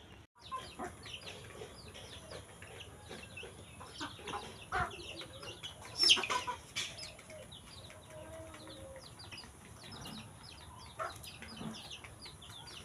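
Domestic country chickens cluck and call in a tin-roofed house, with repeated short clucks and a few louder squawks scattered across the stretch, fairly close and with no talk.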